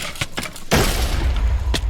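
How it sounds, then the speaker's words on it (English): An explosion in the video game Horrifeye: a few soft thumps, then a sudden loud blast with a long rumbling, crackling tail and a later sharp hit. "Apply massive liberal amounts of explosion."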